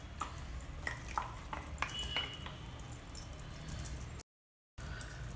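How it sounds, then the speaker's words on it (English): Sambar simmering in a pot as ground masala goes in, with a spoon scraping and knocking against the vessel in irregular strokes over a soft bubbling bed, close and moderately quiet. "The sambar is boiling well. Now add the ground masala to this."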